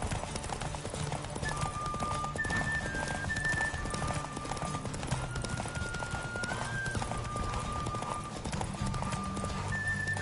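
Rapid rhythmic hoofbeats of a galloping horse in the video game The Witcher 3 on PS5, steady and continuous, with a faint tonal musical line running over them.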